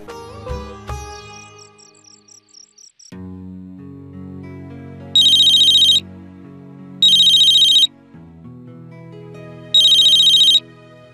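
Mobile phone ringtone in a Hindi television drama scene: after a short musical passage, three bright electronic ringing bursts repeat at even intervals over soft background music.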